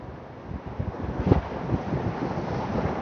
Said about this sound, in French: J'espère que vous entendez le son des vagues. Et il y a du vent.